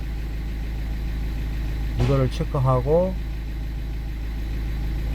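Car engine idling steadily in a workshop, a constant low hum running through the whole clip while someone speaks briefly over it.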